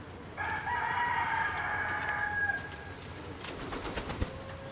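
A rooster on a family egg farm crows loudly and close, one long drawn-out call, followed by chickens clucking and pecking around the flock in the background.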